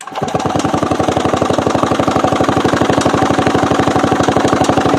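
The electric starter cranks a TMZ Tula motorcycle engine with fitted contactless ignition: a fast, even chugging pulse, loud and close, running steadily without catching and with no talk over it.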